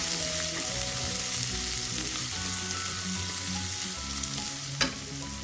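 Small onions sautéing in hot coconut oil for a Kerala prawn theeyal, a steady close crackling sizzle with a few stirring scrapes throughout and no talk.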